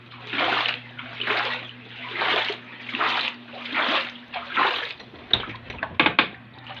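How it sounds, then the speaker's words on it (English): Flood water spreads across a former rice field in the early morning, giving a steady rushing, splashing flow in repeated surging waves, with a low constant hum underneath and a few sharper splashes near the end. "the water flood is still there"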